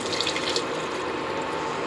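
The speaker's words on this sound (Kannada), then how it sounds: "ಇದಕ್ಕೆ ನಾನು ಮಿಕ್ಸಿ ತೊಳೆದು ಸ್ವಲ್ಪ ನೀರು ಹಾಕ್ಕೊಳ್ತೀನಿ" Running water splashes steadily for a couple of seconds as a mixer jar is rinsed under a tap, with no voices.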